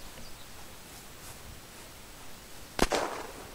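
Shotgun firing in the survival game Unturned, one sharp close blast followed by a brief noisy tail, preceded by several seconds of quiet ambient noise.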